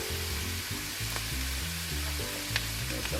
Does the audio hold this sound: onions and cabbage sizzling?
yes